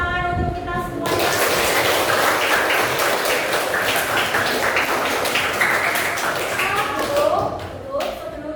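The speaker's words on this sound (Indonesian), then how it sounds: "sekarang kita berikan tepuk tangan untuk kita semuanya." A classroom claps together for several seconds in a dense, steady burst of applause that starts suddenly and tapers off toward the end.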